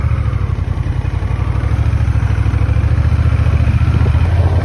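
A fully automatic cruiser motorcycle pulls away, its engine a loud, close, rhythmic low thumping that pulses steadily throughout with no talking.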